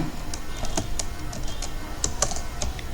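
Keys tapped on a computer keyboard while an ID number is entered, short irregular clicks in small bursts, close and fairly quiet, with no talking.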